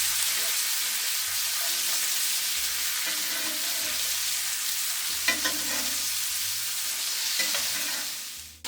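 Steaks sear in a hot pan just after being flipped, a steady close crackling sizzle with occasional spits and pops and some light stirring sounds.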